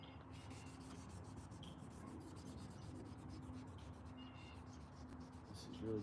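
A Toyota Tundra or Nissan Frontier headlight is wet-sanded by hand with 1000 grit sandpaper, making soft, quiet, rhythmic rubbing strokes in a continuous back-and-forth pattern.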